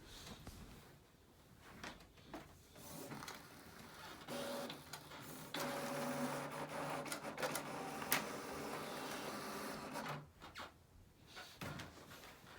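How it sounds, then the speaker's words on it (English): A printer runs PayPal shipping labels with a steady mechanical whir and feed for about ten seconds, then falls quiet near the end, with no talking. "Once I finished printing my labels"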